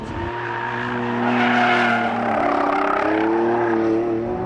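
A Lamborghini Revuelto, a 1,001bhp V12 hybrid supercar, revs hard around cones, its loud close engine note climbing and shifting through gears while the tyres squeal and skid beneath it.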